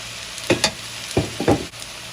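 Shrimp tossed into a hot pan with noodles and spring onions for spicy Chinese lo mein, giving a few loud, close scraping stir strokes over a steady sizzle.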